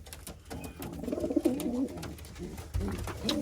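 Racing pigeons coo softly in a loft, a low burbling call rising and falling at close range amid light rustling and a thud near the end, with no talk.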